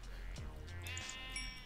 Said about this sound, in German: Wie ich einfach mal hier über die Kühe höre.